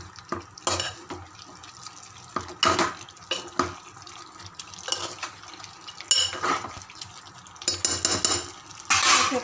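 Chopped pieces being tossed and stirred with chili powder in a metal dish, with intermittent scraping and clattering bursts over a quiet background.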